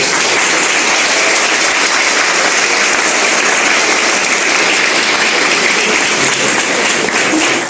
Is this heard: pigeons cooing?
no